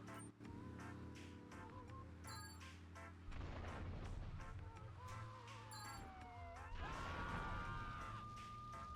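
Explosions from bombing a property in Grand Theft Auto: Frosted Winter Remastered, sharp blasts and booms mixed with wailing sirens and game effects, fairly loud and continuous.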